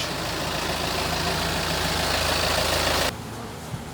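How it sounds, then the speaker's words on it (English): Loud, steady rumble of two tractor engines running close by, a dense broadband drone that drops off sharply near the end. "I have two tractors right by me making all kinds of noise."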